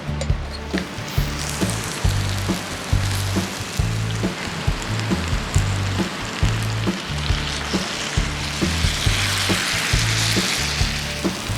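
Food fries in a skillet at a solo motorcycle hammock campsite, giving a steady crackling sizzle with regular low knocks or taps recurring roughly every half second throughout.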